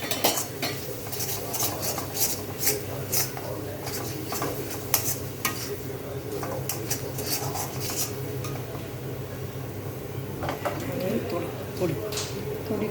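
Spices stirred into chopped vegetables in a pan for veg Maggi masala: repeated clinks and scrapes of a spoon against metal with a soft sizzle underneath, close and irregular, while a person talks over it.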